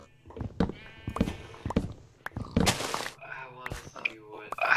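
Sheep bleat in a Minecraft world with the MineColonies v1.4 mod, several wavering calls scattered over footsteps and clicks, with a voice talking over parts of it.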